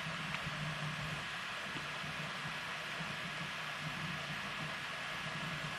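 Subway train running steadily, a continuous low rumble and rolling rail noise with a faint hum, moderately distant and unchanging throughout.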